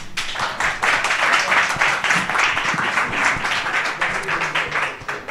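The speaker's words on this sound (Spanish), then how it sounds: "Un aplauso." An audience at a talk on electric mobility claps to welcome the speaker, a full, lively burst of applause that swells quickly and stays strong throughout, with no voices heard.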